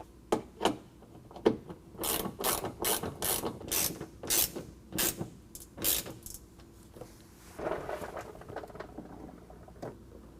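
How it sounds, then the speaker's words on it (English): A Phillips bit turned with a 1/4 inch box-end wrench while installing Husky fender flares on a 2021 Ford F-150 gives a run of quick, close ratcheting clicks, with a few scattered clicks before and after. "it can be helpful to use just a Phillips head bit going in place and then turning it with a closed-end wrench"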